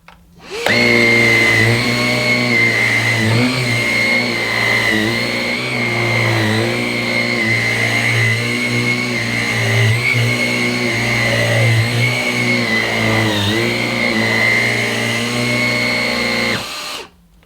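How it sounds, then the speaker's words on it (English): A Henry Quick vacuum cleaner's mini motorised brush runs continuously on a fabric footstool with a steady whirring drone, near and loud, with slight rhythmic beating fluctuations and no talk. "you can hear that it's giving a bit of a grooming and beating action to this footstool"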